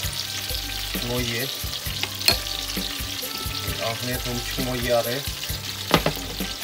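Food fries in a pan at an evening family gathering, a continuous hiss and sizzle with clinks and scraping of stirring, while people talk quietly nearby.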